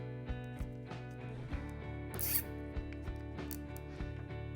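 A plastic zip tie being ratcheted tight around a kayak rudder wire during installation of a rudder adapter, a close series of rapid clicking ratchet pulls with a brief rustle partway through.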